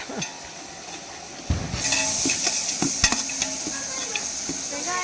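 Onions sauté for mutton biryani, giving a steady sizzle with stirring scrapes that grows louder and brighter partway through and continues close up without talk.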